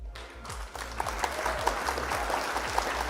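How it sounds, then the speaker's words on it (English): Steady applause from a crowd, a continuous wash of clapping with a few sharper claps standing out, with a low hum underneath. "Round of applause for all of you."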